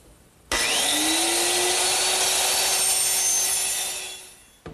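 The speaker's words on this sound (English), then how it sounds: "I'm just going to use my little lightweight circular saw." Small lightweight circular saw trimming the ends of a wooden seat, starting abruptly with a loud whining motor hum that holds steady for about four seconds, then spins down, close and dominant.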